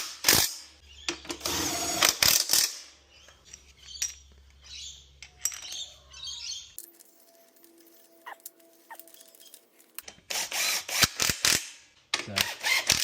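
Ratchet clicking as subframe bolts are tightened on a 2017 Honda CRF250R dirt bike, close up in short bursts of rapid clicks separated by pauses, with light handling noises between.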